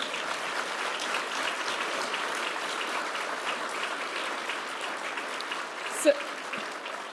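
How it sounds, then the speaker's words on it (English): Audience applause at a U.S. Department of the Interior farewell event, a steady wash of many hands clapping at moderate level for several seconds, with a brief sharp sound near the end. "give them another round of applause"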